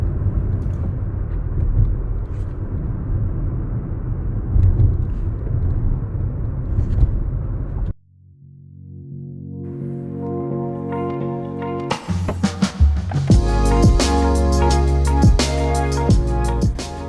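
VW Polo 9N engine at highway speed, a steady loud road-and-engine drone for several seconds that cuts off abruptly, followed by unrelated tonal sounds.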